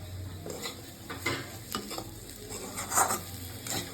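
Bitter gourd fried with prawns and onion is stirred in a pan, scraping strokes rising over a steady close sizzle and crackle of hot oil, with a few sharper clinks along the way.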